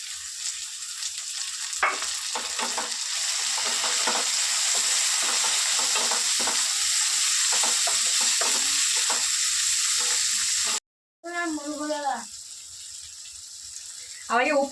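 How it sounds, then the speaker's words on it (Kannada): Garlic paste and tomato frying in a pan, a steady loud sizzle with stirring scrapes running throughout, briefly cut off near the end before a voice speaks over the quieter frying. "ಈಗ ಬೆಳ್ಳುಳ್ಳಿ ಹಾಕೊಳತ್ತೀನಿ ರೀ ಪೇಸ್ಟ್. ಟೊಮೊಟೊ ಹಾಕೊಳತ್ತೀನಿ."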